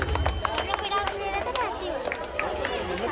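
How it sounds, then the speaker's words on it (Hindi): Audience at a school annual day celebration applauds young child performers, steady clapping with crowd chatter and voices mixed in throughout. "इन नन्हे कलाकारों को एक बार जोरदार तालियों से स्वागत करके"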